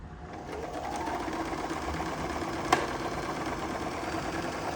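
A Singer M1500 sewing machine stitching a test seam on fabric: a steady, close whirring hum of the running motor and needle that continues without a break, with a single brief click midway.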